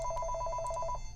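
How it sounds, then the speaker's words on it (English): A telephone rings indoors with a rapid trilling bell tone that runs for about a second and then stops, clear and fairly close, with no talking. "Sorry about the phone ringing."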